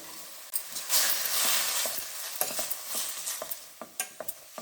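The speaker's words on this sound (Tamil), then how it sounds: "அங்கே கொஞ்சம் எண்ணெயிலேயே கொஞ்சம் நல்லா வதக்கி விட்டுடலாம்" Chopped tomatoes sautéing in oil for vendhaya keerai kootu, a loud hissing sizzle right after they go in, then settling into crackling broken by repeated spoon scrapes and taps against the pan.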